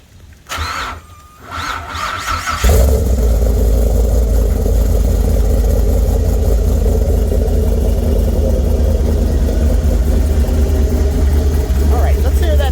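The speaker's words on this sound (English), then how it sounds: "let's just crank her up" An LS4 V8 in a Pickardt Performance Pontiac Fiero cranks for a couple of seconds and fires, then settles into a loud, steady, deep idle up close that runs on without a break, while a voice talks over the opening moments.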